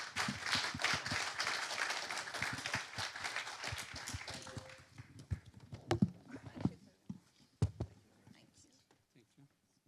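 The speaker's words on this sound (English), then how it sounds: "let's give a round of applause to our panelists" Applause from a conference audience for the panelists at the close of a broadband industry panel in Barcelona, a dense wash of clapping that fades after about five seconds into a few scattered claps and thumps.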